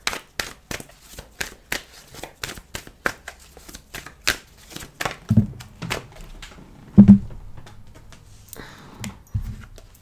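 Oracle cards shuffled by hand before one is drawn: a rapid series of crisp riffling slaps in steady rhythm, close and clear, broken by a couple of duller thumps, no talk.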